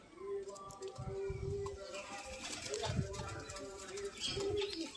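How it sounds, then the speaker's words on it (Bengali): Soft, repeated cooing of a female pigeon in low rolling phrases, heard close by under steady background noise, with a person talking intermittently. "এটাও একটা মাদা পায়রা।"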